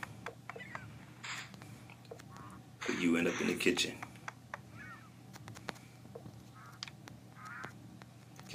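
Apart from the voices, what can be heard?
bird quacking in the video game SurvivalCraft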